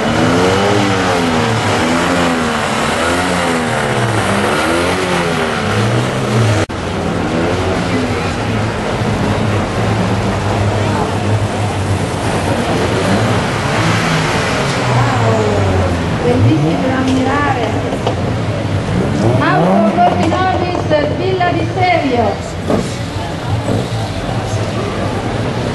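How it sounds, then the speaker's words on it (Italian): Ferrari cars from a car club roll past in a mid-Lent carnival parade in Bergamo, with engines revving and rising and falling in pitch, along with crowd noise and loud announcer-style talking throughout. "Ed ecco il club delle auto Ferrari Portinovi"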